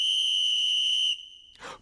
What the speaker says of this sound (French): il donne un grand coup de sifflet